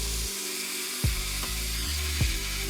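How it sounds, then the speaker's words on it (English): A belt grinder running a coarse 40 grit belt over a large contact wheel, grinding a steel seax blade forged from leaf spring: a steady, loud abrasive whine throughout, with a few brief surges as the blade is pressed against the belt. "switch to the large contact wheel on the belt grinder, and I'll use a 40 grit belt to start"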